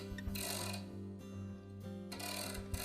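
Ratcheting socket wrench with a 1/2 inch socket working the nut on the blower fan shaft of a Whirlpool dryer, giving close, steady mechanical clicking and grinding with a few louder bursts, no talk.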